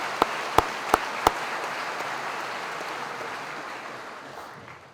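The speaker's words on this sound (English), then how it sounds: "So if we could give everyone that helped put tonight's program together a round of applause." Four sharp, isolated claps ring out, then a high school graduation crowd breaks into full, steady applause that holds evenly before gradually tapering off.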